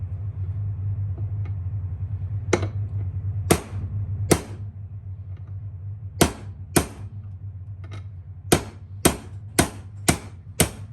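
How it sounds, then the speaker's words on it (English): Metal hammer striking a socket on the drive of a 1969 Ski-Doo Olympique snowmobile during sprocket and bearing replacement: about a dozen sharp, ringing metallic blows, spaced irregularly then quickening, over a steady low hum. "I guess I can use a metal hammer now."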